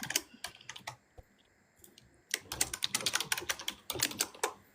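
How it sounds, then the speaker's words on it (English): Fast typing on a computer keyboard, close and clear, in clusters of sharp clicks with a short pause before a denser burst of keystrokes. "I forgot to mute before I was typing."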